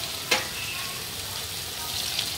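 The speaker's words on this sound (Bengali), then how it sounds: "হালকা হালকা করে ভেজে লাল লাল করে ভেজে নিতে হবে" Potato strips for French fries fry gently in oil on low heat, producing a soft, even sizzle with one sharp clink near the start and a faint scrape later.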